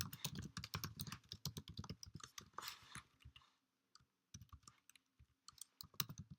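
Typing Java code on a computer keyboard, quick bursts of close, crisp key clicks that pause briefly and then resume in shorter irregular taps.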